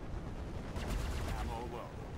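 Gunfire striking a spaceship's shields in Star Citizen, a dull run of rumbling impacts and bursts heard close. A synthetic voice speaks over the dense noise.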